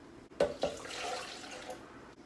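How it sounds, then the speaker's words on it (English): Water poured into a bowl of soaked rice and cinnamon for horchata, opening with a couple of sharp splashes followed by a softer, steady pour that trails off. "I'm going to add a cup of water."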